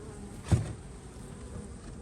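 Honeybees from a nine-week-old package colony in Southern California hum faintly at an opened hive, a low steady buzz with one brief louder bump near the start.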